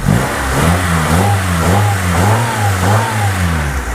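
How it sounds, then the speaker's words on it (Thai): A 2000 Honda Civic EK with an automatic gearbox runs close up, its engine revving in repeated swells and dips over a steady idle hum, loud and alone without talk. "อ่ะสตาร์ทเครื่องให้ดูครับ รถค่อนข้างจะสตาร์ทง่ายมากครับ"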